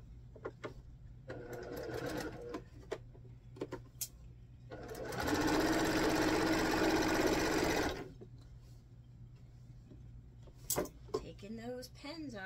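Sewing machine stitching binding onto seam tape, a close, steady mechanical whir running for a few seconds amid quieter handling clicks and a low background hum, with a voice speaking around it.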